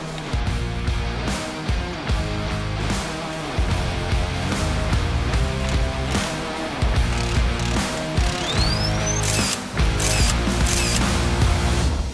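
Motor mounting bolts are tightened on a die casting machine. A tool ratchets in repeated rapid clicking bursts, close and fairly loud, over steady mechanical background noise from the machine.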